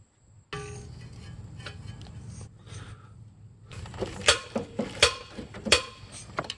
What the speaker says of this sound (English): removing the gearbox from the steering shaft